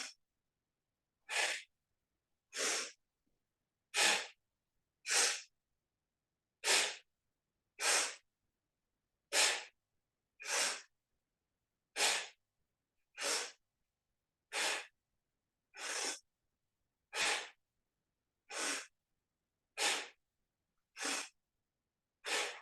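Kundalini yoga breath of fire performed during a seated twist: about eighteen sharp, forceful nasal exhalations, evenly paced roughly once per second, close and distinct with near silence between them.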